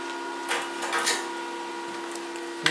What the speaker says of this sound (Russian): Так, начинаем варить боковинки.